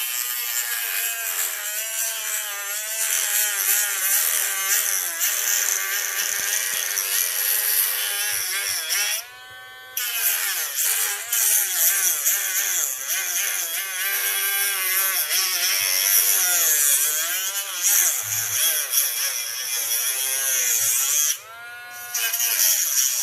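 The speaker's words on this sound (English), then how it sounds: "we take the Dremel and run it along the back" A Dremel rotary tool cuts along the seam of a surplus Ring battery pack holding NCR18650 cells, giving a loud, steady, high buzzing whine that breaks off briefly twice, with no talk.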